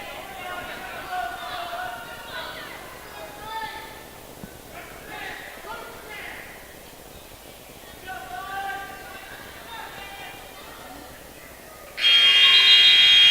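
A long, steady electronic buzzer sounds at the end of a period in a high school wrestling match, loud and abrupt over crowd noise and commentary.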